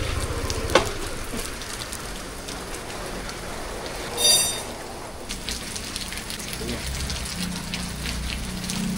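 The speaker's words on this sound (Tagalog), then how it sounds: "Sobrang lakas ng ulan." Heavy rain pours steadily and loudly onto a parking area, a dense continuous hiss with a brief louder gust of water midway.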